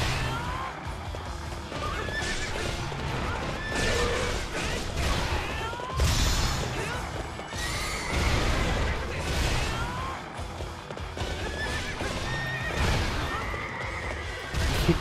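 In the video game Hyrule Warriors, a horse neighs and whinnies repeatedly over galloping hooves and loud battle crashes, a busy, continuous game soundscape with a voice talking at times.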